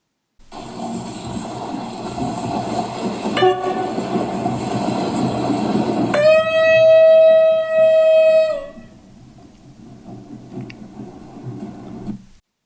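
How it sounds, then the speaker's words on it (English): A train rumbles past loudly, sounding a long, strong horn blast before the noise drops away to a low hum. "The trains are still running."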